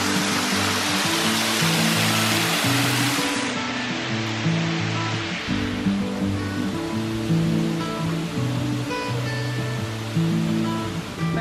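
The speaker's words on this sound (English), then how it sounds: "So this is the Moore's waterfall." Steady, full roar of falling water at Moore's waterfall, a broad continuous rush close by with no voices, the sound slightly shifting in tone partway through.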